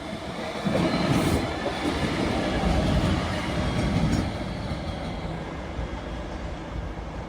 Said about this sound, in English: This class 66 is heading back this way now off platform 3 at Chesterfield.